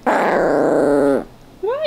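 A dog lets out a loud, close, sustained growl that rumbles for over a second before cutting off, then a brief rising whine-like yip follows.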